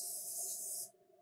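Cooking spray hisses onto a baking tray while wings and onion rings are prepared for air frying: one close, steady spray burst lasting just under a second, then quiet.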